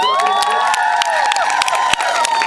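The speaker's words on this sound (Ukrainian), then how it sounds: "ваші оплески медалі перемоги" Crowd in an outdoor town square karaoke event applauding a medal win, with scattered claps and cheers layered over bright music tones, moderately loud throughout.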